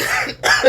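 A person coughs twice in quick succession, close and fairly loud, with a short pause between the two bursts.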